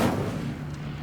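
A short burst from the Incendio fire spell in the Hogwarts Legacy video game: a loud whooshing blast at the start that settles into a sustained low roar and rumble, heard alone.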